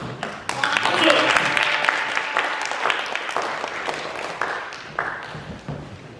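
Audience applause at a church worship gathering, a steady wash of many hands clapping at moderate volume for several seconds, slowly thinning toward the end.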